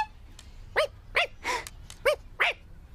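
A cartoon dog gives a run of five short barks and yelps with a whimpering, squeaky edge, spaced roughly evenly over a few seconds, close and clear above a faint low background hum.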